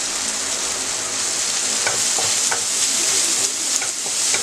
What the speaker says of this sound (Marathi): कांदा चांगला ब्राऊन होईपर्यंत परतून घेऊया.